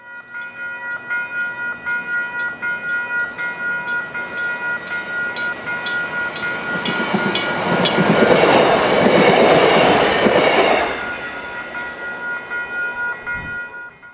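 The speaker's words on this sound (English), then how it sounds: "The signal is for the deadhead of train 1113, which will once again meet train 303 at South Hammond." A South Shore Line passenger train runs past at Munster Ridge, wheels clicking rhythmically over rail joints, swelling loud and near in the middle as cars roll by, then easing back to a steady rolling rumble.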